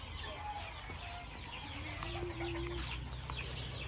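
Young chicks of white kelso and golden boy sweater breeds, hatched from an incubator, give soft peeping and clucking calls against a steady farmyard background, fairly faint and close.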